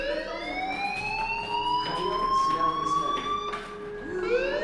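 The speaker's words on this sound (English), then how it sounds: "Hey, do you hear that fire alarm?" A school fire alarm rings in the video game Life is Strange, a loud, steady electronic tone that rises and repeats in sweeping cycles, close and continuous throughout.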